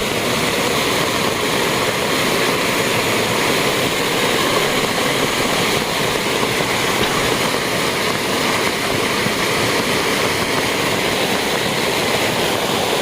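Rising floodwater rushes and splashes over stones beside a banyan tree, a steady, loud, close wash of churning water that continues unbroken with no voices.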